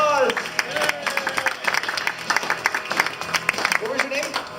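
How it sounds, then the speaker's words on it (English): An audience at a magician's lunchtime show claps for three volunteers called up on stage, a lively burst of many hands with some voices mixed in, loud at first and thinning slightly. "let's give all 3 of them a round of applause"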